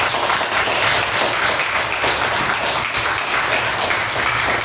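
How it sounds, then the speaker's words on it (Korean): Church congregation clapping during a Sunday worship service as a man comes forward, continuous loud applause filling the whole stretch. "우리 나올 때 우리 박수 한번 쳐주세요."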